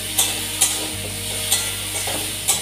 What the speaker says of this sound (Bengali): আর দেবো অল্প একটু কাঁচা লঙ্কা দিয়ে একটু ফ্রাই করে দিচ্ছি।